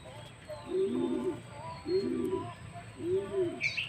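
A racing pigeon returning home from a race coos close by in three evenly spaced, soft rolling calls, faint and low against quiet background hum.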